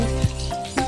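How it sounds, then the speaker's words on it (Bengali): A fish head frying in hot oil for a fish-head and bottle-gourd dish, a brief close sizzle over a steady hum with a couple of small crackles. "এবার মাছের মাথাটা ভাজা হয়ে যাচ্ছে"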